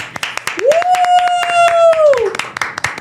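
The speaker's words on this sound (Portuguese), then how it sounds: "Uma salva de palmas para" Round of hand clapping closing an episode, sharp close claps repeating steadily throughout while a long sustained voiced sound, like a cheer or sung note, rises over the middle.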